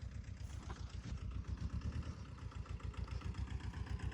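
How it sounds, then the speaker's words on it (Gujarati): Mahindra mini tractor engine idling steadily nearby with a low, even throbbing rumble that continues throughout, no talking over it. "mini tractor Mahendra"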